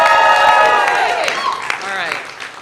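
Graduates and guests at a university commencement cheer and whoop, a loud burst of voices and clapping that fades over a couple of seconds, with a single voice calling out above it.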